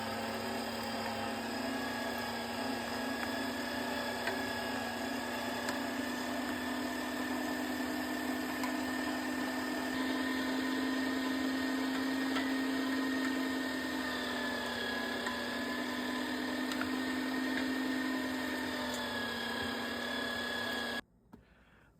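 An electric meat grinder runs steadily for about twenty seconds, grinding pork and venison for smoked venison sausage with a constant motor whine and hum before cutting off abruptly near the end, close and without speech.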